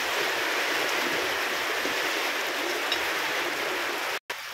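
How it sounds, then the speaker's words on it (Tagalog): Heavy rain falls outside, a dense, steady hiss that stays loud and even throughout, with a brief cut near the end and no voices. "Lakas ng ulan guys sa labas."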